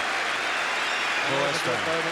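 Football supporters at the Arsenal v West Ham cup final applaud in a dense, continuous clatter of clapping, with muffled voices from the crowd underneath.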